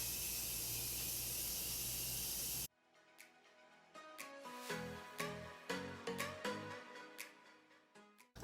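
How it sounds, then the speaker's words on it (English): An aerosol can of makeup-dissolving mist sprays onto a face in one steady, close hiss lasting under three seconds, followed by quiet rustling and soft handling sounds. "It is in an aerosol can, and I'm just going to spray this on my face."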